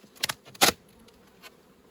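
A few short, loud bursts of honeybee buzzing pass close by an opened hive box in autumn, separated by near silence.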